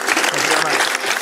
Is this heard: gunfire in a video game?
no